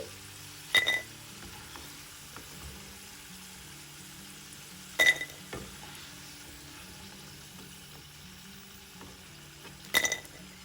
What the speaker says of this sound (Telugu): మిగతా ముక్కలు కూడా ఇలాగే వేసుకుని వేయించుకుందాం